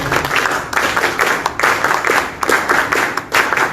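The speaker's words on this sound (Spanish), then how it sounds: "Fuertes palmas para él, por favor" Loud, close applause from a crowd at a political rally closing, dense hand claps rising and falling in bursts with brief dips, no talk over it.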